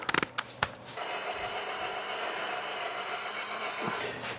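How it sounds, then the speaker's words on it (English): An electric drill bores a hole into wood with a steady, continuous whine after a few sharp clicks, running close and alone for several seconds before winding down. "Drill a hole."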